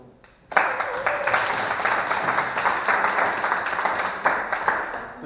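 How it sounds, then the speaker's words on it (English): An audience at an agile meetup gives a speaker a round of applause: steady, dense clapping that starts sharply after a brief quiet moment and carries on evenly to the end, with no talk over it. "And please join me in giving James a round of applause."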